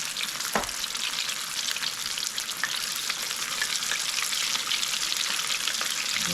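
Buttermilk-dipped, flour-coated Southern fried chicken sizzles in a pan of hot oil: a loud, dense, unbroken crackle fills the whole stretch, close up, with no voices.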